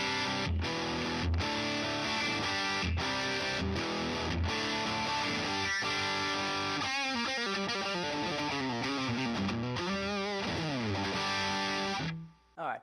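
A PRS SE Studio electric guitar played through a wah pedal into a PRS amp, close-miked with an SM57, gives a loud, distorted run of sustained chords and riffs. A sweeping, vowel-like filter comes through midway, and the playing cuts out near the end.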